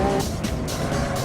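A race car at Imola in a driving game roars as it accelerates hard, its engine a steady loud drone with a rising pitch, heard close and continuous with no talk over it.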